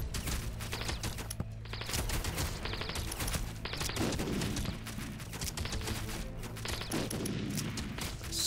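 Rapid bursts from a twin scatter plasma cannon, a shotgun-like spread weapon in the video game WarSphere, crackle in dense volleys over a steady game soundtrack, loud and continuous throughout.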